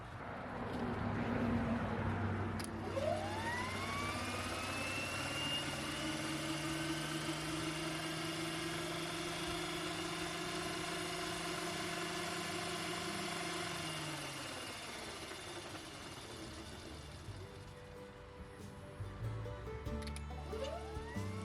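A DC electric motor fitted in a converted VW camper van spins the raised rear wheels at a single speed, a steady whine with rising and falling tones over a low hum, close and continuous.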